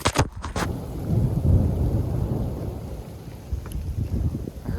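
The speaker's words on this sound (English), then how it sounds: "It's raining." Steady broadband hiss of rain falling outdoors during a weekend elk hunt, loud and continuous with a gusty rumble of wind and possible distant thunder underneath.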